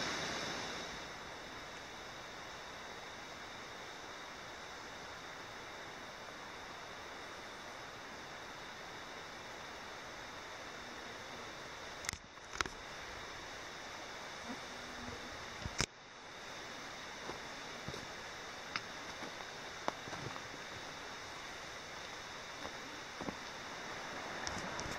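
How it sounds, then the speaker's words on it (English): Lost Cove Creek flows through the western North Carolina mountains as a steady, broad rushing roar of water, heard up close and unbroken throughout, with a few brief knocks near the middle. "ends down here at Lost Cove Creek. And that's where I am."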